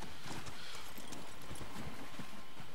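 Horse hooves clip-clop in The Elder Scrolls Online as a mount travels, producing a steady, moderately quiet run of rhythmic hoofbeats with no talking.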